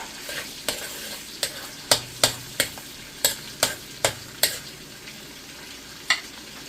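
Garlic cooks in melted butter in a pan for pork asado, with a soft, steady sizzle underneath and a dozen sharp, close clacks of a utensil stirring and scraping at an uneven rhythm.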